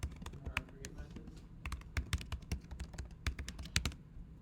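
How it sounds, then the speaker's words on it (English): Rapid typing on a computer keyboard, close and fairly soft, with bursts of quick clicking keystrokes and short pauses, a voice faintly present underneath. "and then Adam, what am I typing in here?"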